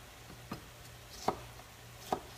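A knife coarsely dicing tomato on a cutting board, three sharp chops spaced under a second apart, faint and close over a low steady background hum.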